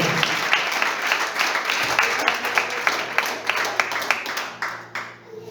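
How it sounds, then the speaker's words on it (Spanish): A church congregation applauds steadily, dense rhythmic clapping filling the space, with some voices mixed in under the applause before it thins toward the end. "Aplauda al que vive en esta noche."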